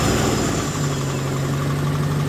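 A Toyota 1UZ V8 with a standalone ECU and coil-on-plug conversion idles steadily right after starting. It gives a loud, close, continuous low hum and rumble with a strong even tone throughout, and no voices.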